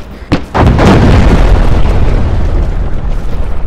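A weapon fires in a military video game: a sharp launch crack and then a massive, loud explosion whose deep rumbling roar rolls on and slowly fades over several seconds.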